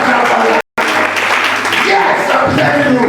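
A church congregation applauds to acclaim Jesus, with dense, loud clapping that is briefly cut by a gap and mixed with voices and talk throughout.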